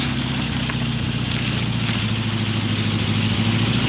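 A 1969 VW Beetle engine runs at a steady idle with a low, throbbing air-cooled rumble, loud and close, holding evenly throughout with no talking.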